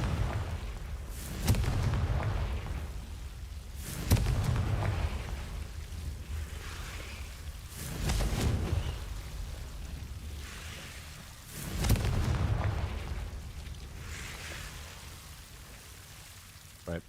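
Confringo spell blasts in Hogwarts Legacy, four fairly faint, dull explosive bursts spaced a few seconds apart, each fading into a rumbling, crackling tail.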